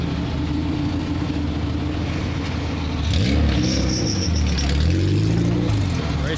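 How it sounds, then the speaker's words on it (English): Race car engine rumbling low at first, then revving up in rising and falling sweeps that grow louder partway through, close by with no talk. "Race car."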